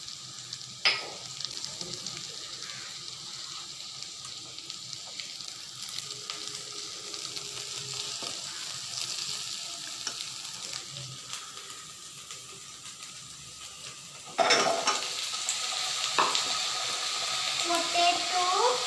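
Ginger garlic paste fries in a pan for vegetable biryani, a steady faint sizzle with occasional spoon scrapes and a sharp louder burst of hissing partway through.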